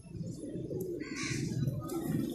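Caged pigeons cooing, soft repeated low coos in a continuous murmur with a few faint higher chirps, close and quiet.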